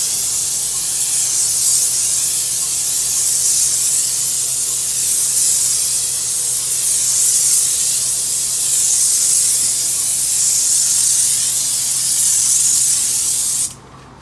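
A spray gun hisses steadily while paint goes onto an exterior door, a loud continuous airy spray that holds for about fourteen seconds before cutting off abruptly.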